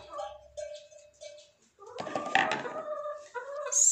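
Backyard chickens cluck and squawk nearby in a short, uneven series, with a brief louder burst of activity midway and quieter pauses between calls.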